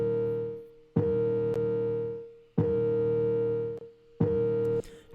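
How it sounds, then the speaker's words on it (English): Alarm-like dubstep synth with reverb plays three sustained, bright, buzzy tonal blasts, each cut off sharply and trailing a short reverb tail, loud and close with no talk. "It's just kind of like an alarm, and then I've also added a little bit of reverb send up here as well."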